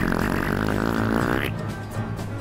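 A long, buzzing fart sound effect blares inside a car during a GT Sport race, a loud raspy tone lasting about a second and a half over steady game engine noise, then dropping away.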